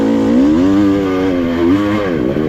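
Dirt bike engine revving steadily while climbing a steep hill, throttle held open with the pitch rising and dipping, loud and close with no talk over it.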